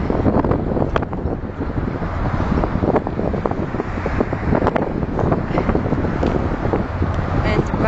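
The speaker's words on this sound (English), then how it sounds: "It's a little windy out." Steady outdoor wind buffeting the microphone in Astoria Park by a river, a constant rough rumble with no clear pauses.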